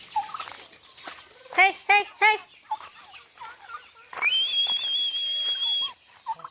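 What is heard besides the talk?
turkeys gobbling while being herded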